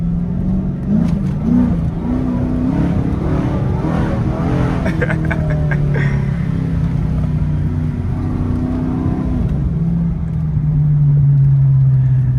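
A Dodge Charger RT V8 engine drones and revs while driving through a city, a low steady rumble rising and falling over several seconds, with brief crackles and a voice heard over it.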